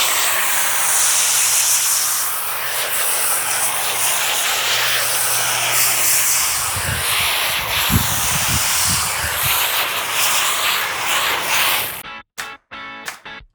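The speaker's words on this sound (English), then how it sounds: "what I'm going to do now is use my foam sprayer with the Green Star Gentle Snow Foam shampoo" Foam sprayer spraying Green Star Gentle Snow Foam shampoo onto a car's wheels: a steady, loud hiss of spray lasting most of the moment, with a few low thumps near the end before it cuts off abruptly.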